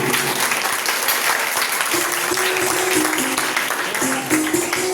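An audience applauds at a children's cultural program at Gayatri Shaktipeeth in Lucknow: steady, dense clapping from a crowd, loud and continuous for the full stretch, with a faint tone sounding underneath.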